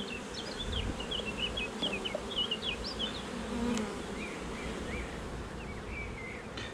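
Honeybees buzzing around an open hive during a spring colony inspection, a steady dense hum with scattered individual bees droning past close by, continuous with no talk.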